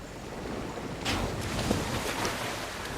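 Underwater swimming and diving in the video game Darksiders gives a soft, muffled whooshing wash of water, steady and quiet with gentle surging swells and no talk.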